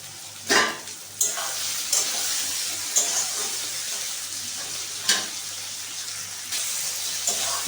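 Fried potatoes stirred into a spice mix in a hot pan for mochar ghonto, a steady loud sizzle broken by several sharp scraping strokes of the spatula, close up.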